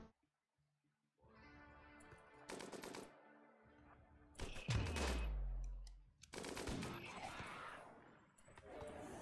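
Rapid bursts of machine gun fire in the colony-survival video game RimWorld, loud and close, with repeated volleys and a heavy impact-like thump midway, under faint game ambience and no talk.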